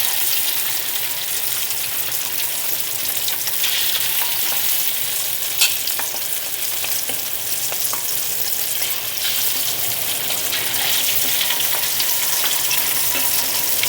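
Ground spice paste for bihun goreng frying in hot oil, a dense, loud and continuous sizzling hiss heard up close, with occasional faint clicks of stirring and no talking.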